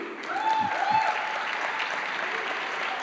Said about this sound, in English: can I get a big, big, huge round of applause for the global winners of WSA 2022?